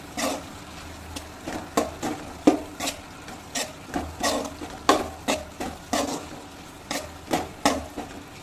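A spatula scrapes steadily through a bitter gourd stir-fry with chili powder in a pan, about twenty distinct close strokes in a regular rhythm over a soft background sizzle, with no talking.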